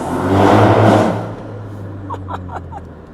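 A tuned BMW G21 330e with a Stage 2 tune and a loud exhaust revs sharply and close by, then drops back to a lower steady drone while a few faint voices are heard.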